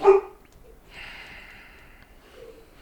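A deaf white dog gives one short, sharp bark at the start, followed by quiet snuffling and faint background noise.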